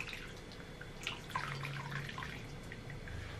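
Water drips and trickles as a soaked cotton towel is squeezed out by hand, several short wet spatters close by in a quiet room.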